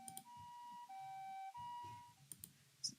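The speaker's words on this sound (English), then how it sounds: "Just then I heard the wail of an ambulance." A two-tone ambulance siren wails in a steady alternating pitch, slightly muffled and thin as a game sound effect, with faint clicks under it and a few sharp ticks near the end.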